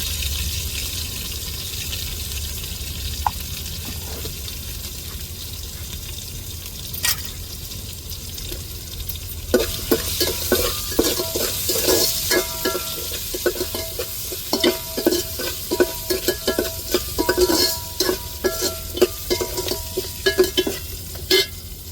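Onions with salt and turmeric sauté in a pan for a curry: a soft, steady sizzle at first, then a long run of close, rhythmic spoon scrapes and clinks against the pan over the hiss, with no talking.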